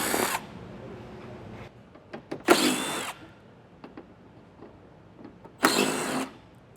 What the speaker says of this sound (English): I'm going to take my 10mm socket, and there's going to be 4 bolts, 2 on each side, and I'll get all these removed